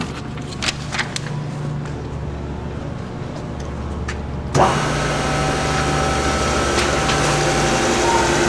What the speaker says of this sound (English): So we'll go ahead and start the machine.